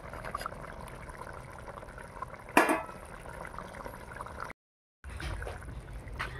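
Bengali parshe fish curry in a mustard, poppy seed and green chili paste boiling in a pan, a steady close bubbling hiss with one brief louder clatter and a short dropout near the end.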